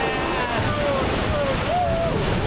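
A raft shoots down a water slide on the Ayung River rapids in Ubud, Bali, with steady rushing water and heavy wind buffeting throughout.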